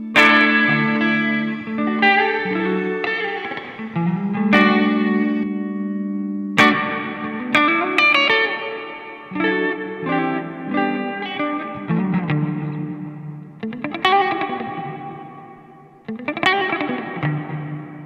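Electric guitar phrases through a Nux MG-30 with a shorter, damped reverb, notes and slides blending with a light wash of echo as the playing continues steadily.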